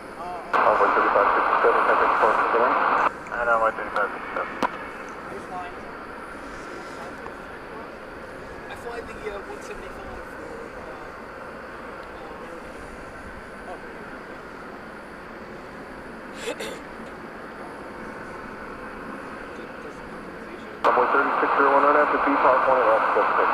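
A 27-year-old Boeing 747-400 at DFW Airport produces a loud, broad engine roar that opens the stretch, eases into a steady distant rumble, then surges loud again near the end.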